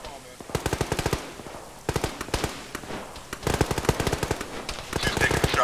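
Gunfire in the Arma video game during a ShackTac session, with several sustained bursts of rapid automatic fire separated by short pauses and occasional single shots, fairly close and loud.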